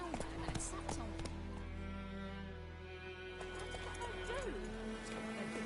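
Roach the horse clip-clops along in The Witcher 3, hooves tapping in a steady rhythm under faint music and a voice speaking.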